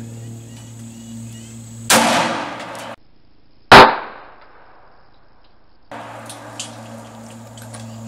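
A single sharp, loud gunshot from a 9 mm pistol firing a Blazer 115-grain round, close by, cracking out and decaying quickly amid steady background hum, with a shorter transient burst just before it.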